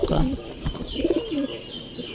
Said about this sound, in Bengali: এই দেখো কবুতরের বাচ্চারা দেখতে পাচ্ছ